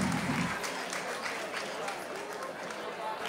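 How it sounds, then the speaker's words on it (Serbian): Audience applause at a singing-school concert performance, a continuous dense patter of clapping that stays fairly even and slowly thins over a few seconds. "Ajmo jedan aplauz, molim za Slobu."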